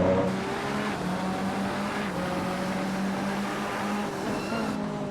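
McLaren race cars lapping Misano in a racing video game, a steady loud engine drone with shifting pitch as several cars run close together, with no talk over it.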